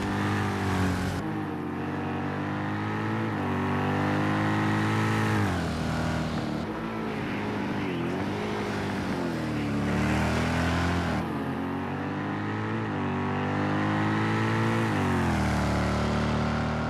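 A race car four-wheel drifting through the chicane at Bathurst in a racing video game: a loud, continuous engine howl that rises and dips as the revs change, with no voices over it.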